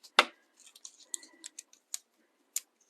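Scissors snip through a foiled die-cut piece, slicing it in half with one sharp, close cut followed by a run of lighter clipping and ticking sounds, alone with no talk.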